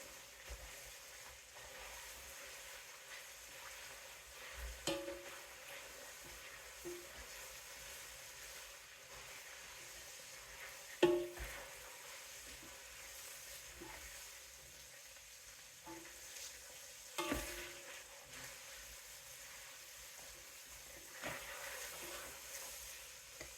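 Oil being stirred in a hot pan while making shepherd's pie, with a quiet steady sizzle and hiss broken by occasional clinks and scrapes of a utensil against the pan, close and without talk.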